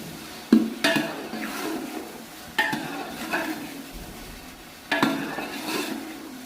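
A spoon stirs tomatoes down into a paste in a cooking pot, with three sharp scrapes and clinks against the metal and soft sizzling between them, close and without talk.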